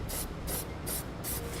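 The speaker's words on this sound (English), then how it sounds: "We're going to use some spray paint." Spray paint hissing onto the ground-down surface of a Demco tabless base plate on a 2018 Jeep Cherokee, four short bursts in a steady rhythm, close and alone.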